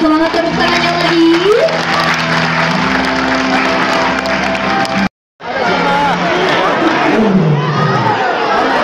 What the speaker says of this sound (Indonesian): Boleh kita berikan semangat tepuk tangannya lagi.